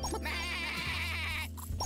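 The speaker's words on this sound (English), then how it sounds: "Now let's get a sheep." A sheep bleats in the farm-building video game Cat God Ranch, a single wavering, sustained call close up and loud over a steady low game hum, with no talk.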